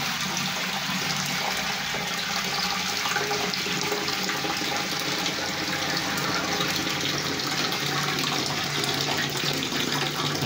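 Water rushing steadily into a household toilet tank as it refills during a leak repair, a continuous close hiss and gurgle with no pauses and no talk.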